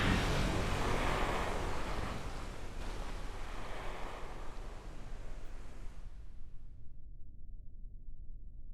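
A spaceplane splash-landing in water in Kerbal Space Program: a loud broadband rush of water and wind noise that holds steady, then cuts abruptly to a low, quiet hum.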